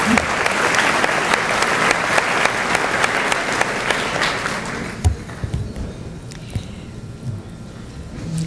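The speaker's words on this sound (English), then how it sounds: "So I think she deserves another round of applause." Applause from a large audience of over 425 at a community breakfast event, dense and steady for about five seconds, then fading into scattered claps and quiet room noise.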